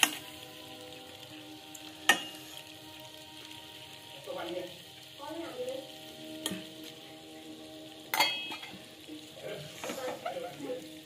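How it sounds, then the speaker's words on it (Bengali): Caramel cooks in a pan while being stirred, with a soft continuous sizzle, scraping stirs and a few sharp utensil taps against the pan. "কিন্তু ধরে গেলে মুশকিল, এটা নাড়তেই থাকতে হবে ক্যারামেলটাকে।"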